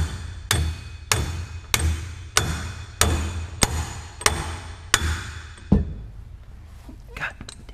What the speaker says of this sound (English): Probably need like a 3-pound hammer.